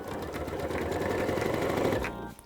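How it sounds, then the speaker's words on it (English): A sewing machine runs steadily, stitching quilt pieces into a long border in one continuous close-up burst of rapid mechanical whirring that stops abruptly near the end. "Just gotta keep sewing on pieces and I'll have one long border."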